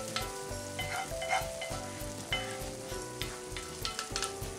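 Pisto manchego of tomatoes and green peppers sizzling steadily in a pan while being stirred, with a constant close crackle, intermittent scraping strokes and a low hum underneath, and no talking.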